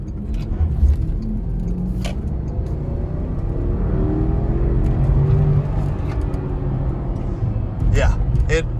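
A 2000s Porsche Cayenne Turbo SUV accelerating hard on a road test, a steady loud engine roar with rising whir heard from inside the cabin, alone and unbroken.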